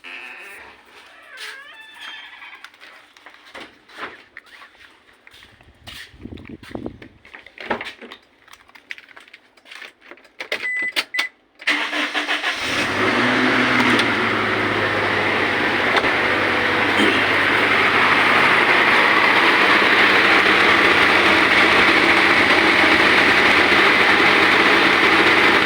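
Toyota Innova engine with a rough-running fault, first faint clicks and mechanical handling, then cranking and catching into a loud, steady, fast idle that fills the rest of the clip.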